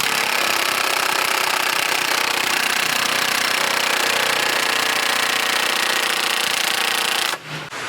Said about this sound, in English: grab your impact, throw her on there and let her rattle.